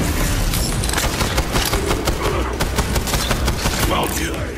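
Rapid gunfire while shooting an enemy in Borderlands 3, a loud dense barrage of repeated shots and impacts in quick succession, with game effects and some voices mixed underneath.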